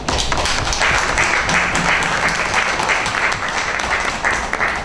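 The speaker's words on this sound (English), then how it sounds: "I think the panelists deserve a better round of applause" An audience at a parliamentary gender-equality panel gives the panelists a round of applause: dense, steady clapping from many hands that fills the room at an even level from start to finish.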